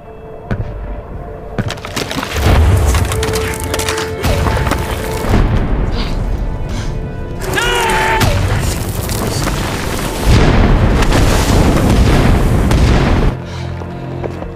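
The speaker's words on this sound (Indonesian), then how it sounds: "Sesaat kemudian, wilayah tersebut dihujani bom yang membuat mereka harus berlindung di lubang parit tersebut." Bombs falling around a World War I trench, with repeated heavy booms and rumbling blasts, some near and some farther off, in loud overlapping waves and no speech.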